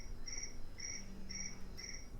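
A phone alarm tone imitating cricket chirps sounds as four evenly spaced, shrill chirping bursts at a steady rhythm, moderately quiet over a low background hum.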